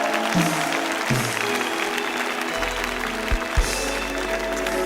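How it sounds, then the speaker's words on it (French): A church congregation at a crusade gathering in Cotonou applauds and cheers loudly and continuously, a dense wash of clapping and shouting voices with music or a microphone hum underneath. "Que tout le monde acclame pour ces âmes sauvées."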